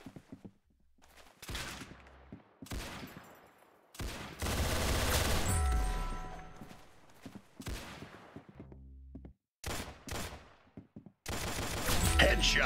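Video-game gunfire comes in loud, close bursts of rapid automatic shots separated by short pauses, with one long sustained volley in the middle and brief footsteps between.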